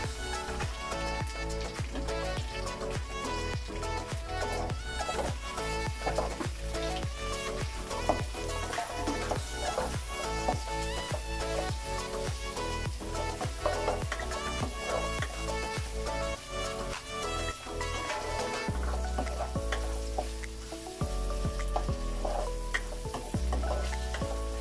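Sliced onions fry in hot oil for pancit bihon, stirred steadily with a utensil scraping the pan, giving a loud, continuous close sizzle with repeated clatters throughout.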